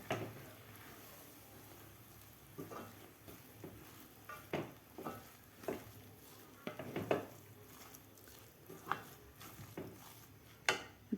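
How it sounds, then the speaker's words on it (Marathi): Chana dal ladoo mixture is stirred in a pan off the heat, with repeated soft scraping and clinking strokes of a spoon against the metal over a quiet background. "व्यवस्थित मिश्रण आपल्याला हलवून घ्यायचं आहे"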